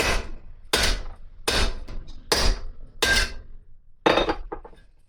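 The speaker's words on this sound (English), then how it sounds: "I'm hitting it with the edge of the hammer, putting" Hammer edge striking a piece of metal to put dents in it: six sharp, ringing metallic blows at an uneven pace, each decaying briefly before the next, close and loud with no talking.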